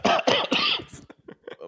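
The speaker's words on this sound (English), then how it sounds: "I'm going to be coughing" A person coughing, several harsh coughs in a quick burst, followed by softer throaty bits.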